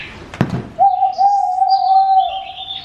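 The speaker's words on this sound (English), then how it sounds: "So a woodpecker." Recorded woodpecker call from a push-button interactive nature display in an outdoor woodland area, a sustained sharp whistle-like tone lasting about a second and a half after a brief click, followed by fainter chirps.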